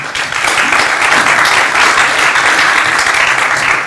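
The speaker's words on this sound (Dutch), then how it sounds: "Mag ik een warm applaus?" Warm applause from a festival audience at a tech and digital-rights event, a dense, steady wash of clapping filling the whole stretch, loud and unbroken.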